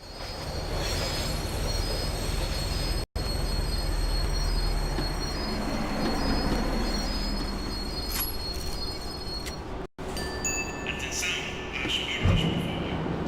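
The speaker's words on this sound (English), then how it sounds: "The tram was slowing down, and I'd only just gotten on board." A tram in Max Payne 3 rolls along and slows, its wheels squealing in high, sustained metallic tones over a rumbling rail bed, with a sharp cut partway through and voices in the mix.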